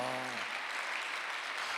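A church congregation claps at a Thanksgiving service, a dense, steady wash of applause filling the room after a brief tonal tail fades out.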